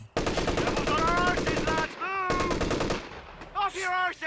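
Machine gun fire in the Company of Heroes 3 video game, rapid evenly spaced shots in long bursts, loud and close, with brief pauses and voices under the firing.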